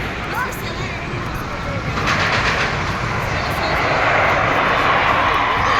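A Superman roller coaster runs at an amusement park, a distant rumbling roar that swells steadily over several seconds beneath broad outdoor crowd noise.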